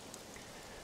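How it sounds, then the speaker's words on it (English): Rain falls in the survival video game Scum, a quiet, steady wash of patter with no distinct drops standing out and no voices. "And it's just started raining, which is not what I really wanted,"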